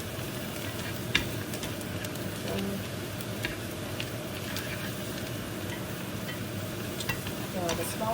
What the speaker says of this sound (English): just want to stir fry it around so that it's cooked evenly